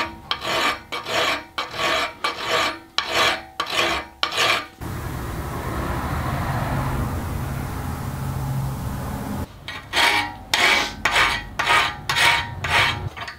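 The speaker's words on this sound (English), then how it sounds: "as I'm filing it, I just want to go a little bit, check it, file a little bit, check it" Metal file rasping back and forth on a brass key stem, with steady close strokes in two bursts separated by a quieter stretch of faint rubbing and room noise.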